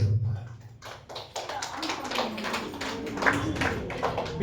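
A church crowd claps as an LED screen is switched on at an outdoor inauguration prayer, a dense burst of many hands applauding at a moderate distance, swelling and continuing steadily.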